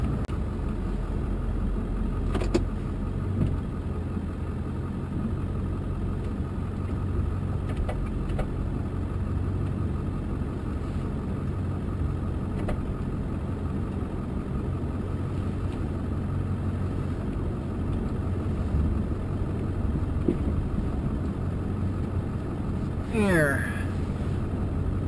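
A Ford F250 with the 7.3L engine idles and runs steadily at low pitch while plowing a snowy driveway, a constant near rumble throughout with faint clunks, and someone talks over it.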